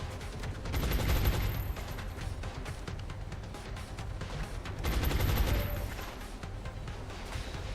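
Volleys of rapid gunfire in XCOM come in two loud bursts separated by a steadier crackling barrage, with no voices over it.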